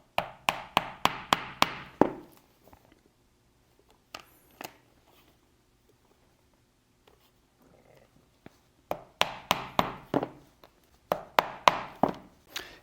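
A punch is struck to make holes in leather for a clutch bag: sharp, rapid knocks come in quick runs of about eight, with a quiet pause in the middle broken only by a few isolated taps.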